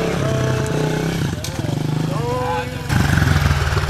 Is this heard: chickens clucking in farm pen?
no